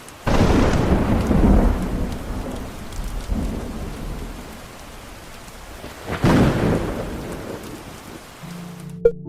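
Rain and thunder in the Stardew Valley farming game: two heavy rolling thunder rumbles, one at the start and another later, swell over a steady patter of rain, followed by a brief soft chime near the end.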